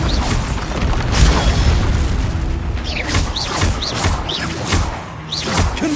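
Explosive Bombarda blasting spells in the Hogwarts Legacy video game: repeated booming impacts and whooshing magic effects layered in a busy, loud combat soundscape with several swept tonal zaps.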